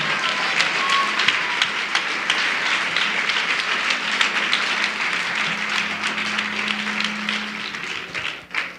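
A church congregation gives sustained applause to God during a sermon, a dense, even wash of many clapping hands that holds steady throughout before tapering off at the very end, with faint voices mixed in.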